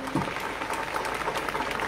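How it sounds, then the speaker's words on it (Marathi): A crowd at a public political rally for Eknath Shinde claps steadily, a brief dense patter of applause heard at a moderate distance with a faint murmur underneath. "एकदा जोरदार टाळ्या त्याच्यासाठी होऊन द्या"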